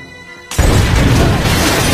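A laboratory explosion in the Hollow Man film erupts suddenly after a quiet moment, then rumbles on as a loud, dense, sustained roar of blast and debris.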